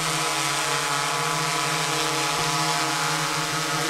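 A small drone carrying a cockroach whirs steadily and loudly up close as it descends to land, its rotor whine holding an even pitch with a couple of faint knocks.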